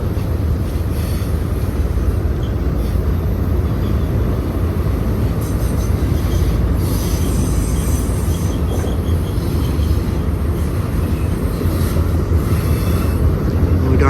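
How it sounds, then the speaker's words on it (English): A freight train rumbles past steadily through Cajon Pass for the whole stretch, a loud continuous low roar with wind buffeting the microphone and faint clatter from the rails. "Nice train."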